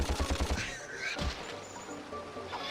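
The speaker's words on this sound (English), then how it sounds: "let's use the blaster to shoot these explosive crates" A blaster firing at explosive crates in the Ratchet & Clank video game, with a rapid burst of shots followed by a crashing blast and rumbling game sounds, loud and close.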